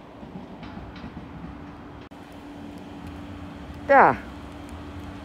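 Trains at Den Haag Centraal station in March 2017 give a steady low rumble and hum, broken by one loud, sharp squeal partway through; a voice briefly speaks.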